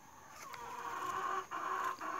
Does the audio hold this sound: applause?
no